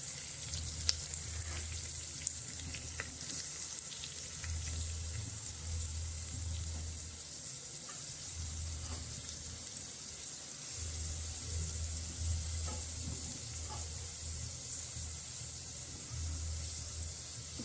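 Chopped onion fries in a pan for a mixed-dal khichdi, giving a faint, continuous soft sizzle with low background hum throughout, no voices.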